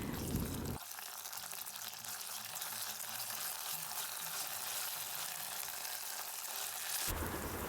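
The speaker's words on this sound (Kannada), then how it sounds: "ಇವಾಗ ಅದನ್ನು ಹಸಿ ವಾಸನೆ ಹೋಗೋವರೆಗೂ ಫ್ರೈ ಮಾಡ್ಕೊಳ್ಳಿ." Ginger garlic paste fries in a pan, giving a steady soft sizzle that holds for several seconds, with a brief louder burst at the start and end.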